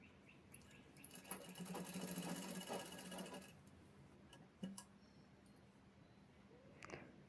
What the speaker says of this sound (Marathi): दुसऱ्या साईडने शिवून घ्यायचं आहे परत